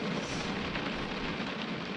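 Heavy monsoon downpour pours down as a dense, unbroken roaring hiss, loud and steady throughout with no pauses or separate drops standing out.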